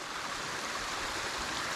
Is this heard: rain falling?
yes